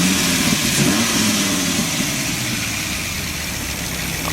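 A 2003 Dodge Viper SRT-10 runs its engine and exhaust in a loud, steady, close rumble with no voices over it.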